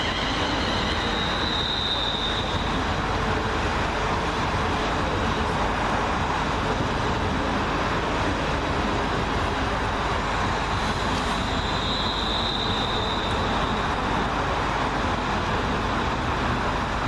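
A twelve-coach Class 350 electric passenger train runs through Milton Keynes Central station, a loud, steady rumble and rush of wheels on rail lasting throughout, with faint high squeals at times.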